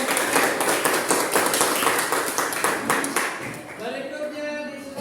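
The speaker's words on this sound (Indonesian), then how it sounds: "kita beri aplaus untuk kelompok" Classroom applause for a student group that has just finished presenting, dense clapping filling most of the clip before fading into brief chatter near the end.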